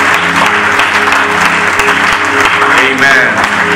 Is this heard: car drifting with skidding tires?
no